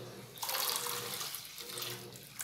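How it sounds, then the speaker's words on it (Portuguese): A litre of water poured into a container while making homemade coconut liquid soap, a splashing gush that starts abruptly and runs steadily for about two seconds, close by and moderately loud. "vou colocar mais 1 litro d'água"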